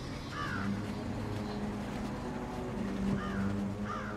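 Several crow caws ring out over a steady low rumbling background in a TV drama scene, short harsh calls arriving in brief clusters near the start and again near the end.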